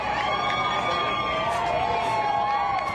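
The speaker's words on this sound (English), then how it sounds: "Crowds erupt into applause, cheers and jeers as the verdict in former US President Donald Trump's hush money trial is revealed outside a Manhattan court" A dense crowd cheers, shouts and jeers outside a Manhattan court as a verdict in former US President Donald Trump's hush money trial comes out, a loud continuous roar with whoops and chants.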